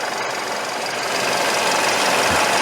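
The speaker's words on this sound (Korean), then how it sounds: "엔진룸을 한번 보죠. 소음도 들어보시고요." A car engine with a knocking fault and a P0420 catalytic converter code idles steadily up close in the engine bay, a continuous mechanical hum with a faint ticking knock running underneath.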